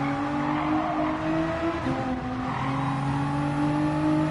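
Tyres squealing on a car in Gran Turismo 7, a steady high-pitched tonal whine layered over a sustained engine drone, close and continuous with no talk.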